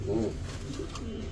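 A female Lynex Polish pigeon coos in low, rolling murmurs, close and steady through the short moment.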